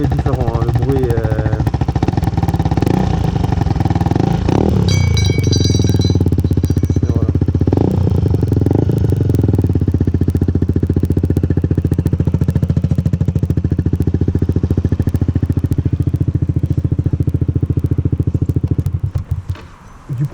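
A Yamaha Xmax scooter with an exhaust baffle runs close by at a loud, steady, throbbing idle with a few brief rises in pitch, then cuts out near the end.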